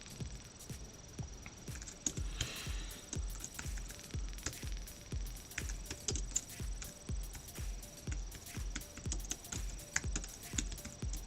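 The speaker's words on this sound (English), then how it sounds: "Sometimes it's easier for me to copy and paste than fix my spelling mistakes when I'm typing too fast." Keys clack on a computer keyboard in a quick, even run of close, crisp taps, with no voices over them.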